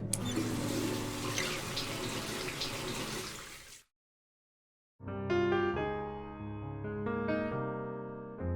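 Hands are washed under a running tap, with a steady rush of water lasting about four seconds before it cuts off abruptly; after a brief silence, music begins.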